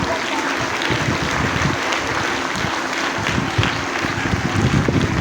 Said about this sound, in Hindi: बहुत अच्छी तरीके से क्लैपिंग करें।